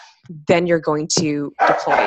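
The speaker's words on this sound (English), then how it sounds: "Sorry, that is my dog." A dog barks in a home while a person speaks, its bark-like yelps and whimpering tones tangled closely with the talking over a couple of seconds.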